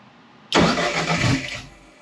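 A DSM drag car engine with a new turbo and head cranks and catches, jumping abruptly to a loud, broadband roar that runs rough for about a second before cutting off.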